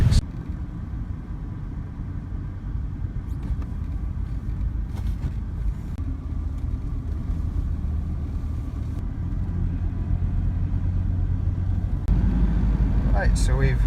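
A bus carries passengers into Calais, its engine a steady low rumble throughout with road noise, louder toward the end, while people chat faintly inside.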